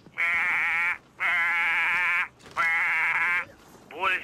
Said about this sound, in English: Listen out for the goats. They'll be making, goat noises.